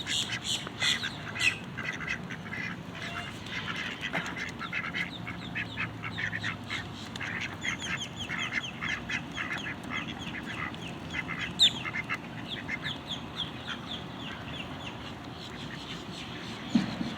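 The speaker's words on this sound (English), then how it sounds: "Come here, pretty ducks." Ducks quack and squawk continuously at close range in an outdoor flock being called over for feeding, with a dense chorus of overlapping calls throughout and occasional louder bursts.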